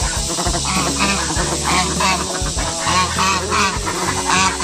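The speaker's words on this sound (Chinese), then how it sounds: "这个是母鸡啊" Hens in a yard call out loudly and close by, a run of repeated nasal, honking clucks that overlap one another with hardly a pause.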